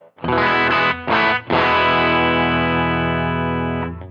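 Chords ring through the Line 6 Stadium XL Jasmine amp model, bright and driven with chorus-like shimmer: two short stabs, then a long sustained chord fading at the end, no voices.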